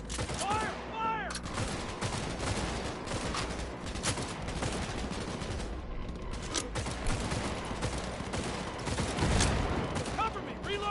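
Heavy gunfire from a PS4 video game battle crackles nearly nonstop in overlapping bursts, with shouted voices in the mix and occasional louder blasts.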